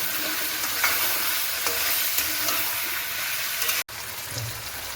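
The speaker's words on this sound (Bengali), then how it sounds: "এবার আমি সব রকম বানিয়ে রাখা মশলাটা এর মধ্যে দিয়ে ভালোভাবে কষিয়ে নেব" Mixed vegetables with dried shrimp and ground spice paste sizzle and fry in hot oil while being stirred, a steady close crackle with scraping stir strokes and a brief break near the end.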